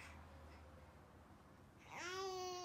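A 7-month-old baby lets out a short, rising babbling vocalization like trying to say hi near the end, after a stretch of quiet background hiss.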